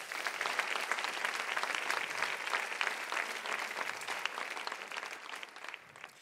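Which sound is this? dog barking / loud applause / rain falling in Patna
loud applause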